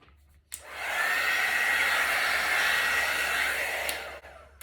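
A heavy handheld hair dryer blowing on a poured acrylic paint canvas: it switches on with a click into a loud, steady whooshing roar that runs for several seconds, then clicks off.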